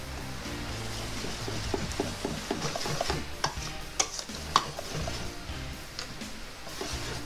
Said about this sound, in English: And then mix hanggang sa mawala yung lumps niya.